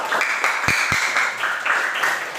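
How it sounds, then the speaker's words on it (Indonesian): Classroom students clap together after a lesson, a brief close round of applause with a couple of sharper thumps near the start. "Ya, tepuk tangan."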